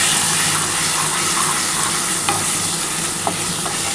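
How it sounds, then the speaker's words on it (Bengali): Spice paste with chilli powder and salt for a chicken and potato curry sizzles and fries steadily in a pan while a spoon stirs and scrapes, close and continuous with no talking. "এবার ভালো করে মশলাটা কষাতে হবে।"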